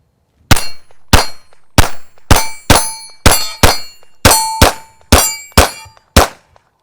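A handgun fires CCI subsonic rounds: about a dozen sharp, close reports in quick, slightly uneven succession, each with a short ringing tail.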